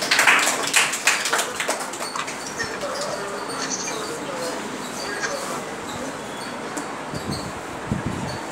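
Applause for Kusum Kumari as she comes forward: a steady crowd of hands clapping, crisper at the start and then settling into an even wash, with voices talking over it.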